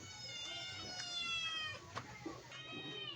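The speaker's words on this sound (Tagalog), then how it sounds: "naghihingi na yung ating mga pusa" Cats meow repeatedly, begging for food in a household setting, their drawn-out calls overlapping in a thin, close chorus over a low background hum.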